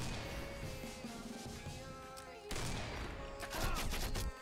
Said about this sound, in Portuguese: Nossa, que rajada, velho.